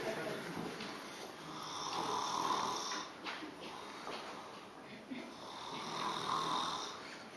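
A man snores loudly and steadily nearby, two long rasping breaths a few seconds apart with a quieter gap between them, and no talking.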